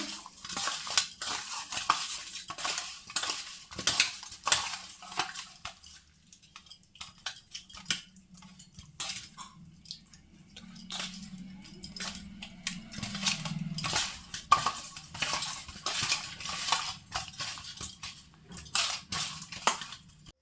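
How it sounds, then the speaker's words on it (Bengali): Pieces of rohu fish being mixed by hand with spices and raw mustard oil in a bowl, giving repeated wet squishing and clinking against the bowl in irregular bursts, close up and fairly quiet. "এখন মাছগুলোকে ভালো করে মেখে নিব"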